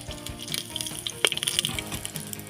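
Whole cumin seeds crackle and sizzle in hot oil with bay leaf and whole garam masala (cinnamon, cloves, cardamom) in a pan, a dense close frying hiss with brief louder pops and no talk.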